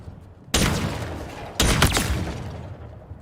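The Heatwave weapon from Halo Infinite multiplayer fires two loud, close blasts about a second apart, each with a sharp onset and a ringing, crackling tail.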